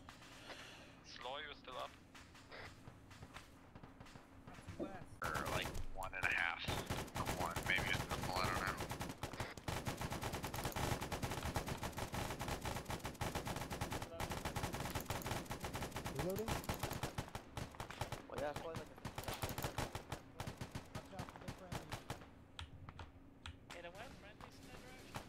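Gunfire in the Arma 3 Vietnam campaign, dense rapid bursts and rattling shots running almost continuously at moderate level, with people talking over the shooting.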